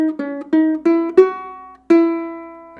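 Ukulele plucks a short rhythmic phrase at a rehearsal: a run of quick single notes followed by two longer ringing tones, close and clear with no voices.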